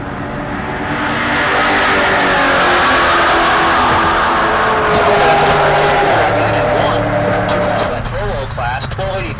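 A Chevelle drag racing car at Heartland Park Topeka during Rocky Mountain Race Week roars loud and close, its engine sound swelling and holding for several seconds before shifting near the end, with a voice underneath.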